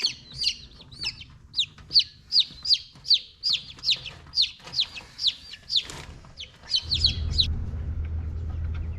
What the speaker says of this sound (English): I have all my meat birds finally outside here in the chicken tractor.